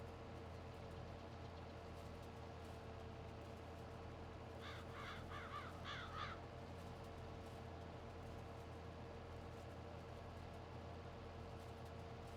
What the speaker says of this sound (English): Look at them crows.